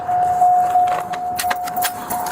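Keys jangle in a car's ignition, a light metallic clinking in several short bursts over a steady background hum.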